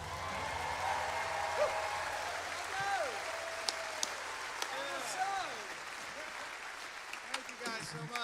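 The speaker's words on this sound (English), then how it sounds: "Oh, it feels good, doesn't it? That applause." Audience applause at the Grand Ole Opry's 95th anniversary show, a broad steady wash of clapping with scattered whoops and voices rising over it, sustained throughout and heard from within the hall.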